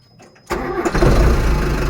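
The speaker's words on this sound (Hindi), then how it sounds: "तो अभी तो फिलहाल ये देख सकते हो हम लोग गाड़ी स्टार्ट हो चुका है" A Tata 709 diesel truck with air in its fuel line cranks and fires, jumping from near silence into a loud, rough, rumbling idle that settles in steadily.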